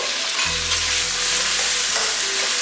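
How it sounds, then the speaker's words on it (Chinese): Beef slides into hot oil in a wok for wet-fried beef kway teow, giving a loud, continuous sizzle with a low steady hum beneath. "热锅凉油，先把牛肉划一下油"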